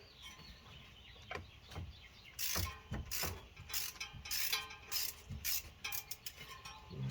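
A wrench ratchets and clicks in quiet, irregular bursts as bolts are broken loose on the water pump of a 2004 Dodge Ram 1500 with the 4.7 engine. The sound is faint and close by, with sharp metallic clicks in clusters.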